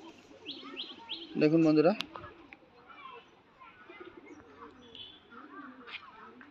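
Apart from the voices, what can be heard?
pigeons cooing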